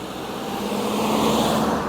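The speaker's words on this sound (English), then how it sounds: "Right, let's watch the traffic." Steady roadway traffic rumbles past at close range, a continuous broadband wash of car noise that swells slightly as vehicles go by, with no voices.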